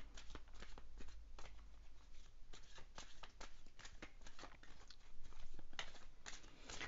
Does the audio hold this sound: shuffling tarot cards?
yes